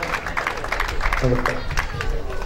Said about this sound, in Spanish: Un fuerte aplauso por favor al ganador